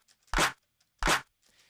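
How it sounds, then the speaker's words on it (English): Two sharp, punchy snare hits sampled from a hit rap song, evenly spaced about two-thirds of a second apart with a crisp noisy crack, followed by a faint softer tail. "And so that snare would sound like this as a micro sample."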